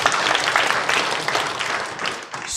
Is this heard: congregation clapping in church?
yes